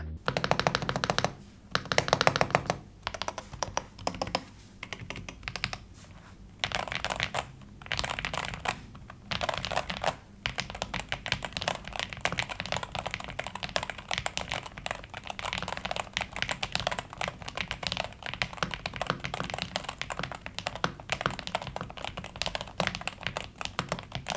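Steady, continuous typing on a Corsair Vanguard Pro 96 mechanical keyboard with a screwed-in plate, fast close-up keystrokes with a few short pauses early on, heard alone with no talking.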